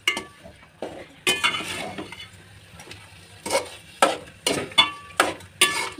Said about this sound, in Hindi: इसको हम बहुत अच्छी तरीके से भूनेंगे।